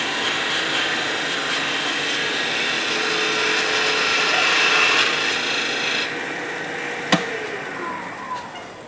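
A sharp gouge taking a fine finishing cut in wood while carving a roughed-out gnome, a steady close rasping shave that runs for about six seconds, then fades with a brief knock near the end.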